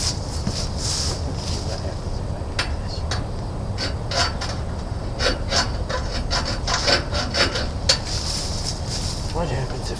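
A bare hacksaw blade with no handle is drawn back and forth through material, giving a close, steady rasping scrape in repeated strokes throughout.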